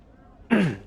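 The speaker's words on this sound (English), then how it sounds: "had to clear my throat" A single short, loud throat clear from a man, a rough burst of under half a second that follows a quiet, near-silent moment.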